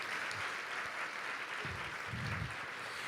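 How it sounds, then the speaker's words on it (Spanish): A church congregation applauds during a Sunday sermon, a dense, steady wash of clapping that holds evenly for about three seconds with no voices rising above it. "Démosle un aplauso a Dios porque nos hizo diferentes."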